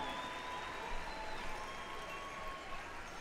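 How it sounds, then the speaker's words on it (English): Pow wow audience at the 2018 Gathering of Nations applauds dancers entering the arena during the Miss Indian World dance competition, a soft, distant wash of clapping with faint crowd noise and a thin tone over it. "Everyone give them a big round of applause."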